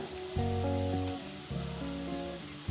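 Potatoes fry in hot oil while cooking a lentil dal, a soft, continuous sizzle heard faintly beneath steady background music.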